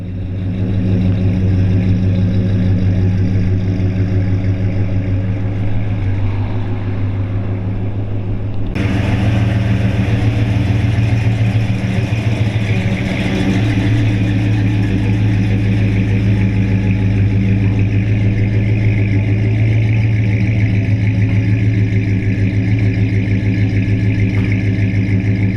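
A 1940 Ford Deluxe Coupe with a 350 engine runs steadily at idle, its low rumble loud and continuous, then picks up a slightly fuller, brighter tone partway through, with no talking over it.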